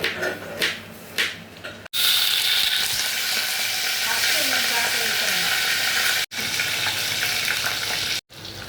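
Spices such as mustard seeds and fenugreek, with onion and green chilli, are tempered in hot oil in a pan for a beetroot dish, giving a loud, steady sizzle with stirring and brief breaks.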